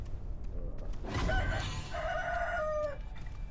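A rooster crows in the video game Sekiro, one drawn-out cock-a-doodle-doo of moderate loudness over a low game ambience, preceded by brief clucking and no speech.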